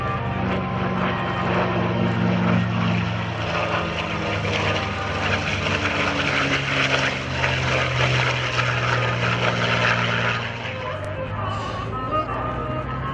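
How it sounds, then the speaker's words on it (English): A P-51 Mustang propeller fighter flies past at an airshow in Millville, its engine drone loud and sustained with steady tonal harmonics, easing slightly toward the end. "P-51 has a top speed of almost 450 miles an hour."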